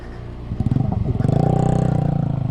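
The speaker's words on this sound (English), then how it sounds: "So there is a loose sand, so bike is sliding here and there." A Hero Impulse motorcycle rides over a loose sand off-road trail, its engine note rising into a steady, close, pulsing drone with some clatter as the bike slides.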